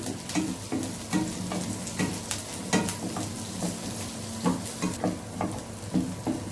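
Curry leaves and onion sauté in a pan for a village-style coriander-mint chutney, giving a steady close sizzle broken by repeated scraping stirs and light utensil knocks.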